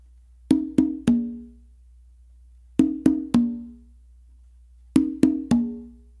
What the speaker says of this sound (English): So it's gonna be two opens and then an open with your non-dominant hand on the drum to your non-dominant side.